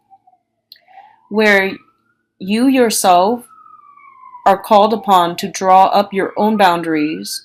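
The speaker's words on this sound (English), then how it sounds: "excuse the siren." A passing emergency-vehicle siren wails in a thin, gliding tone, faint in the background beneath someone speaking close to the microphone.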